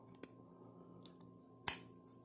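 A 1950s–60s Wostenholm IXL pocket knife from Sheffield, England, with black saw-cut Delrin handles, its blade snapping shut once with a single crisp, close click after a couple of faint ticks in a quiet room.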